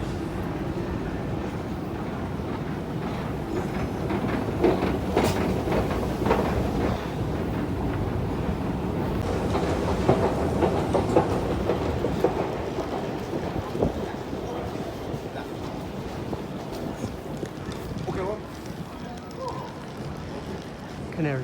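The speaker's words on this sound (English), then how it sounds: "Jubilee line, the next train to Stratford will arrive in 2 minutes." A London Underground Jubilee line train bound for Stratford pulls into the station with a loud, sustained rumbling roar that swells and grinds on, while wind-like rushing noise fills the platform.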